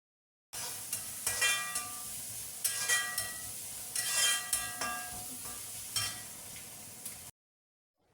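Onions and tomatoes being sautéed in a pan: soft, steady sizzling broken by repeated scraping strokes of a spatula against the metal at a regular pace, close and fairly quiet, with no talking.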